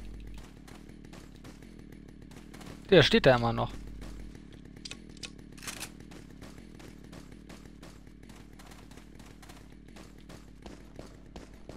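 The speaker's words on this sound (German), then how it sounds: "man hört immer noch die Kettensäge von dem Typen" A distant enemy's chainsaw drones on continuously as a low buzzing rattle in Resident Evil 4's mine area, with someone talking in German over it and a few brief thuds mid-way.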